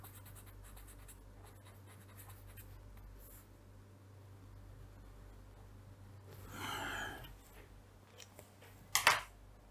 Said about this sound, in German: Schreibe ich einfach mit großen Buchstaben auf.